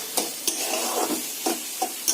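Carrot halwa thickened with milk powder is stirred in a pan as it dries, with a spatula scraping the pan in about six distinct, unevenly spaced strokes over a soft, steady background hiss.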